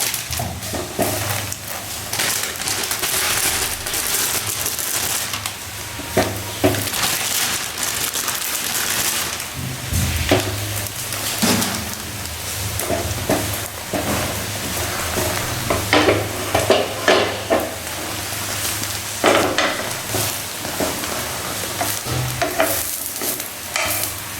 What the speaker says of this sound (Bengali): আর এদিকে তেলটা গরম হয়ে গেছে, তো আমি ব্রেডগুলো ভেজে নিই এবার